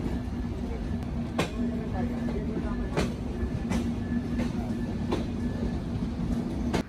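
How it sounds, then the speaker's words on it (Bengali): Benapole Express train pulling into Rajbari railway station, a steady low rumble under a faint hum, broken by sharp rhythmic clicks from the wheels on rail joints. "পরের স্টেশন হিসাবে আমাদের ট্রেন এসে পৌঁছালো রাজবাড়ী রেল স্টেশনে।"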